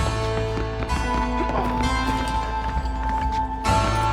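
Horses gallop in the Red Dead Redemption video game, a steady run of hoofbeats under a dense layer of game music and ambient sound that holds at an even level throughout.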